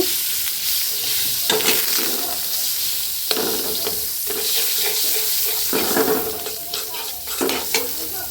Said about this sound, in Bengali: আমি এখানে বাটার দিয়ে দিলাম কড়াইটা আসলে প্রচুর গরম হয়েছিল